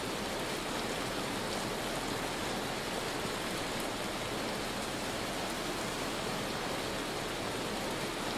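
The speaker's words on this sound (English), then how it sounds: "Oh no, this looks like hail. It's so loud, I'm so sorry." Hailstorm in the survival video game Vintage Story, a dense, unbroken hiss of pelting hail that stays loud and even throughout with no pauses or voices.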